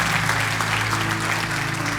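Congregation applause during a church sermon, a dense, loud, continuous burst of clapping from many people, with a low steady hum beneath.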